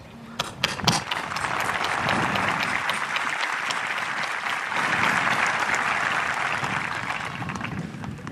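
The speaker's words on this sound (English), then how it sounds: "I would like to give a huge round of applause to the marvelous staff here" Sustained applause from a large crowd honoring school staff at a 2024 high school graduation ceremony, a dense wash of clapping that starts with a few sharp claps and swells, steady and loud throughout.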